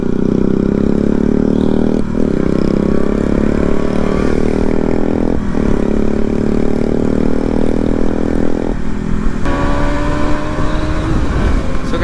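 A Bajaj Pulsar 220 motorcycle with a modified exhaust rides ahead, its engine giving a loud, steady droning note that shifts in pitch a few times as it accelerates and changes gear.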